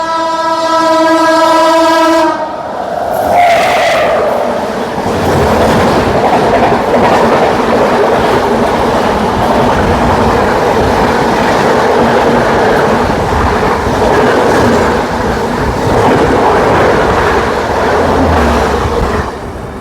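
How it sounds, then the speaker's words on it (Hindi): The Shram Shakti Express, a Kanpur–Delhi train, rushes past at speed through Aligarh: a loud horn blast with clear stacked tones opens, then a close, roaring rush of coaches and wheel clatter that fills the rest. "श्रम शक्ति कानपुर दिल्ली श्रम शक्ति एक्सप्रेस"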